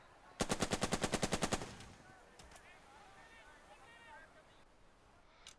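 A machine gun fires a rapid burst of about a dozen evenly spaced rounds in the wartime strategy game Burden of Command, loud and close, then gives way to quieter battle ambience with faint distant voices.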